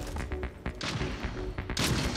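Rapid gunfire in the video game Splitgate sounds as a dense, close burst of repeated shots, loud and continuous over a couple of seconds with bursts of impact noise.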